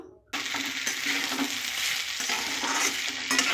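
Potato slices sizzle and crackle in a hot pan at night in a home kitchen, a loud, steady frying hiss starting abruptly after a moment of silence, with stirring scrapes on top.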